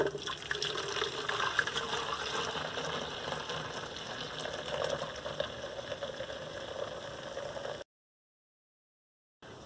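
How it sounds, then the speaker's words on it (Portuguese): About 1.5 litres of very hot water pours steadily into a container for mixing liquid laundry detergent, a continuous splashing rush that stops abruptly near the end. "Então vamos colocar água aqui,"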